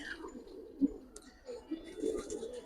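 Giribaz and high-flyer pigeons coo softly, with a few low, rounded, throaty calls rising and falling against a quiet background.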